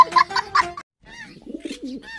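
A brief voice is followed, after a pause, by a pigeon's low, warbling coo, close and moderately loud.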